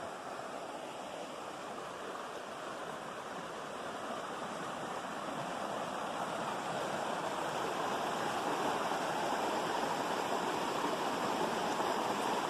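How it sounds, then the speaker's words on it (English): A small, low stream flows steadily past a beaver dam in Washington, a continuous broadband rushing and burbling that holds close and even throughout, slightly fuller toward the end, with no voices. "that's a nice little stream"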